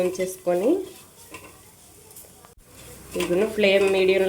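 Ajwain leaves stirred and frying in a pan give bursts of scraping and sizzle on either side of a quieter stretch, with someone speaking over much of it.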